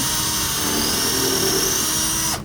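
A power drill boring screw holes in wood for a mantle clock runs with a steady, loud whine throughout, then winds down abruptly at the end.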